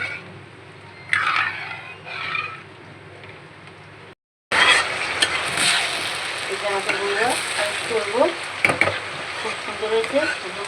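Hilsa fish fries in a hot pan with a loud, crackling sizzle, preceded by speech, then a brief cut, followed by continuous spattering and stirring scrapes.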